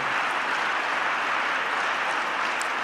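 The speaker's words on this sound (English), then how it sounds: "What the fuck is that clapping?" Dense, steady applause fills the whole stretch, an audience clapping loudly and evenly with no pauses, in a formal hall in Saudi Arabia.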